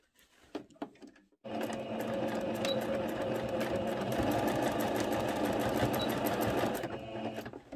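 After a few light handling knocks, a sewing machine starts up and stitches the side seams of a viscose skirt in one long, close, steady whirring run before slowing to a stop.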